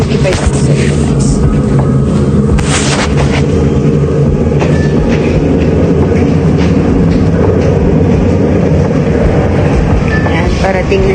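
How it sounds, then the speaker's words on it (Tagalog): A train rumbles loudly and steadily, with metallic squeals and clanks from the wheels as it rolls in close by. "So guys, parating na yung ating tren. Parating na."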